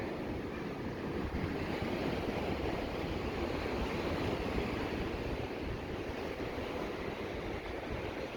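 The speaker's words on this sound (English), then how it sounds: "Wait for some waves to go by here." Continuous roar of ocean surf breaking along a beach in Mazatlan, loud and steady with a broad rushing wash and some wind.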